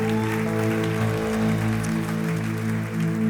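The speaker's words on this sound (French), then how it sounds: "Est-ce qu'on peut l'applaudir encore bien fort?" A church congregation applauds warmly and steadily, the clapping blended with sustained musical chords held underneath throughout.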